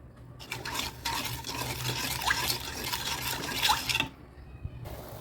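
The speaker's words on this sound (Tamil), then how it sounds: "நல்லா கொதிக்குது பாருங்கள்." Close-up bubbling and spitting of sugar syrup boiling in a pan for about four seconds, then it cuts off abruptly, leaving near silence.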